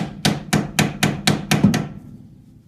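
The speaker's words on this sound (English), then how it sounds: "just chisel it in there and kind of pry just very slightly" A hammer strikes a chisel into a GM hub assembly seven times in a steady, even rhythm, each sharp metallic hit close and clear, the ringing fading after the last blow.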